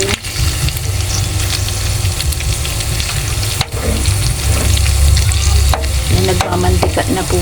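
Pork adobo sizzles and crackles loudly in its own rendered fat in a pan, a continuous frying hiss broken by sharp pops and occasional stirring scrapes.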